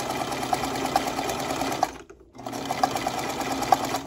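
A sewing machine stitches zigzag seams on a surgical face mask, running in a steady whirring burst, stopping briefly for about half a second, then starting up again close and loud.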